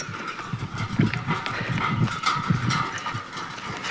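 Rhythmic clopping of bullock hooves over a rolling bullock-cart rumble, fairly close, with creaks and rattles mixed in.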